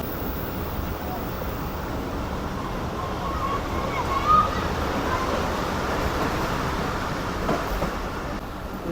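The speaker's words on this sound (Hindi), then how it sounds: "तकरीबन 7:45 बजे हमारी ट्रेन अप्रोच बना रही है खानेवाल जंक्शन रेलवे स्टेशन पर" Karakoram Express train rolling toward Khanewal Junction, a steady loud rumble and rushing wheel-and-track noise heard from on board, continuous without clear breaks, with faint speech underneath.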